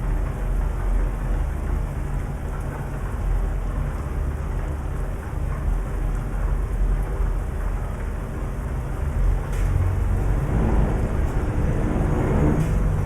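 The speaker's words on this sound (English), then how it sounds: "Man, the rain is really" Heavy rain pounds steadily on a moving truck, a dense close drumming over low road and engine rumble that swells slightly toward the end, with no talk.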